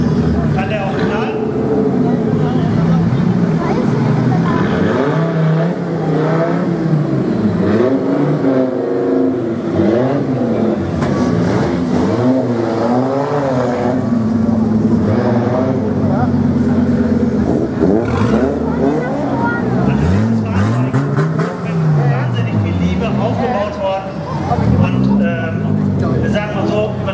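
Audi car at an Audi meet in Steinfurt driving slow laps, its engine revving and rising and falling steadily throughout while people talk over it.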